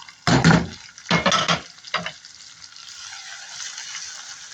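Onions dropped into garlic frying in ghee burst into a loud sizzle in three sharp waves, then settle into a steady, fainter frying hiss.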